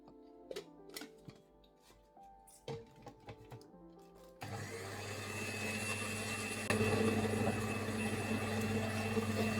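An old kitchen machine used for making Nigerian ogbono soup switches on partway through, a loud steady whirring roar that follows a few seconds of scattered light clinks and knocks.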